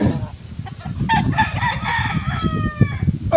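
A rooster crows loudly and close by in one long drawn-out call with clear harmonic tones, set against clucking and rustling from other backyard chickens.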